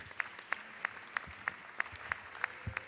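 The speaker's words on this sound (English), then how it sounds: "let's give them a round of applause" Clapping in the Georgia House chamber: evenly spaced, sharp single claps about three per second, moderately loud against a quiet room, with no crowd roar.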